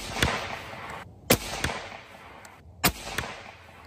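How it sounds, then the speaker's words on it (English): An FX King .35 caliber airgun fitted with a Yokozuna moderator fires two sharp, suppressed shots about one and a half seconds apart. Each shot is followed by a faint echo. "the shot report basically goes from the sound of almost like a 410 shotgun"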